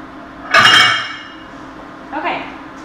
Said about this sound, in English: Really quick, I'm going to go ahead and put these in my sink